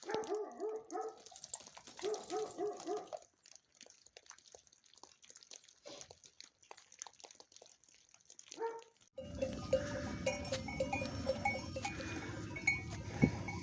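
Several sheep bleat in bursts early on, followed by scattered quiet bleats and rustling, then a broader noisy bustle of the flock.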